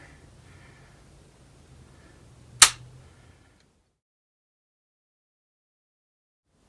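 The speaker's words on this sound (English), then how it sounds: "we'll go ahead and cock it here" A .32 caliber flintlock pistol has its hammer cocked, giving a single sharp metallic click amid faint room noise, followed by near silence.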